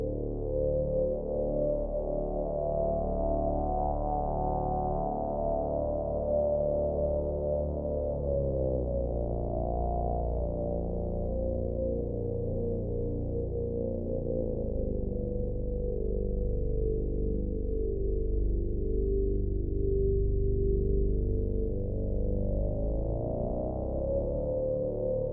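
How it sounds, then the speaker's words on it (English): A synthesized flugelhorn, filtered and shaped to emulate an Australian didgeridoo, holds a long low drone whose buzzing overtones slowly sweep and shift, sustained and steady with no pauses. "to try to create an emulation of the Australian didgeridoo"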